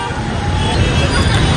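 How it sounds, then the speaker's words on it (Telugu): A rainy road at Hitech City is jammed with traffic, giving a dense, steady wash of idling engines and road noise mixed with distant crowd babble. "ట్రాఫిక్ జామ్ అయింది"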